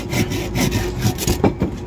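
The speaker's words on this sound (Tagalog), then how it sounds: "Purol na yung ating lagari, wala nang daan, may ipit na sa sariwa." A blunt hand saw grinds through fresh, sappy Taiwan hibiscus bonsai wood, its rough rasping strokes repeating steadily and loud up close, with no talking.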